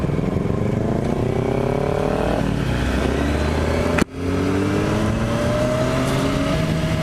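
A Kawasaki Ninja 400 motorcycle fitted with a new exhaust revs loudly and close by, its pitch climbing under heavy throttle, with a brief break midway before the engine surges again.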